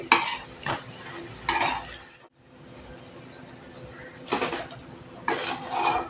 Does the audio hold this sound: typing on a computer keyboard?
no